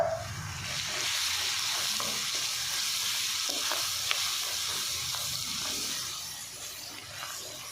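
Whole cumin, fennel and black pepper sizzle in hot oil for chana pulao, a loud, steady hiss with a few faint stirring clicks.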